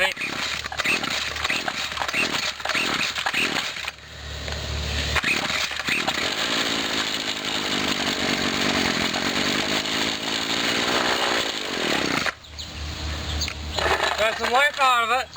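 Repaired 1997 Husqvarna chainsaw engine revving loudly and continuously, with brief throttle bursts at the start and a short drop near four and twelve seconds, close to the listener.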